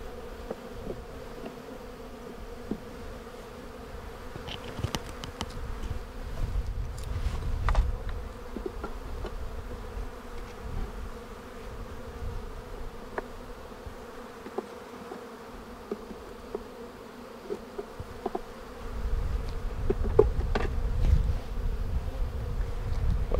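Honeybees from a queenless hive with a poor brood pattern drone steadily, close by, with a sustained buzz that swells toward the end and individual bees zipping past.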